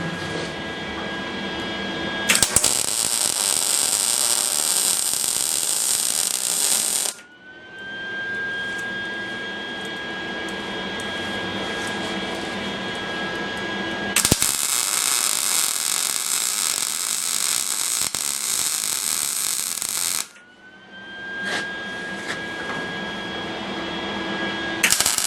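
Trailer parts are welded in two long sustained bursts of crackling, hissing arc noise, each several seconds long. A lower electrical hum fills the gaps between bursts, and no one speaks.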